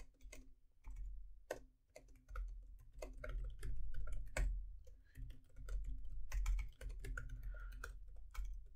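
Rapid, uneven typing on a computer keyboard, dense clicking keystrokes with brief pauses, close and fairly loud throughout, no talking.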